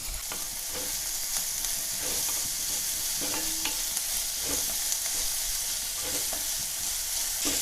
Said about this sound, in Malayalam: ഇനി ഇതൊന്ന് വഴറ്റിയെടുക്കാം